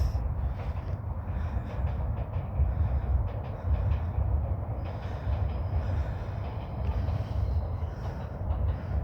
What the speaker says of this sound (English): The train. It comes.